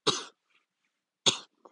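Two sharp coughs, the first near the start and the second about a second later, close to the mic with silence between them.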